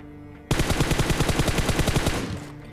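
Rapid automatic gunfire in a video game bursts in abruptly and runs as a fast, loud, evenly spaced rattle of shots for about two seconds before cutting off, with no voices over it.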